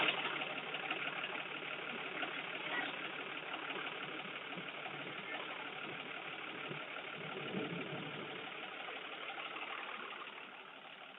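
A used turbo pickup truck's engine idling smoothly, a steady, even mid-pitched rumble held close and constant throughout, with no talk over it.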